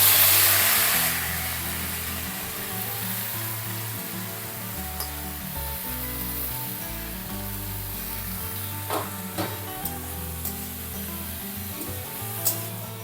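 Rai saak greens fry in hot oil with dried chilli and nigella seeds, a steady close sizzle and hiss with a few faint stirring scrapes near the end.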